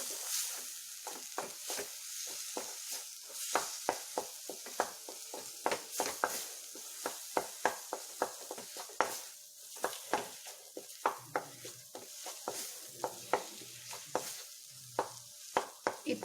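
Ground turmeric with chilli powder, garam masala and coriander powder sizzles in oil in a pan for a paneer coconut milk gravy, stirred with a spoon that scrapes and taps in quick, uneven strokes over a steady close fry.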